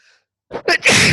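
A single close sneeze bursts straight into a microphone, with a quick inhale leading into the loud explosive release that cuts off abruptly, heard alone in otherwise quiet surroundings.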